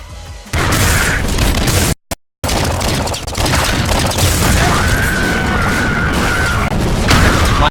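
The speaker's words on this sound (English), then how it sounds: "And it explodes." A loud explosion in the video game Nuclear Throne, a heavy booming blast followed by a brief cut and then a rumbling, crashing din of game noise that continues at full volume.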